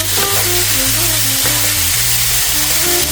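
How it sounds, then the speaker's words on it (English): Ground pork renders its fat in a hot pan with a steady, close sizzle and crackle that holds for the whole stretch, while tonal backing music steps along underneath. "I'm going to take this ground pork here and render some of the fat"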